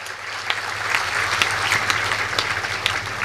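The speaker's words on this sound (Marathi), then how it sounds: "एकदा टाळी वाजून बाबांचं स्वागत." An audience at a Ramkatha religious discourse applauds to welcome a revered elder, a steady dense wash of many hands clapping continuously at moderate loudness with scattered sharper claps.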